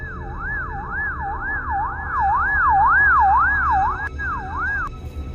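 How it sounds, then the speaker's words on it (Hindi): A wailing ambulance siren sweeps up and down in steady, rapid cycles, loud and close, with a low traffic rumble underneath and a brief break near the end. "लगता है ये एम्बुलेंस वाला बुल्ली को सही समय पर हॉस्पिटल पहुंचा देगा"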